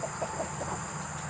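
Farm chickens clucking softly in a short series of low, rhythmic clucks over a steady background hum, fairly close, with no talking.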